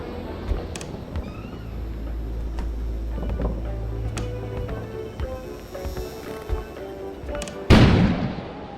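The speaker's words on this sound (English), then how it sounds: "An explosion suddenly occurred outside." In the video game Kona, a sudden loud explosion bursts outside near the end, rising sharply out of a low, rumbling ambient background scattered with faint clicks and knocks. No one speaks.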